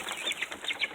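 Chickens clucking in a backyard flock of newly arrived rare-breed birds, steady overlapping clucks and chatter close by with no talking.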